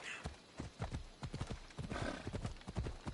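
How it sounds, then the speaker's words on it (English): Hooves of a horse in the video game Assassin's Creed Odyssey clatter in quick, uneven clip-clop beats as it gallops close by, with a brief whinny among the hoofbeats. "We might as well call our horse now."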